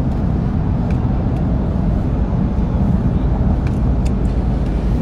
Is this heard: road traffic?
yes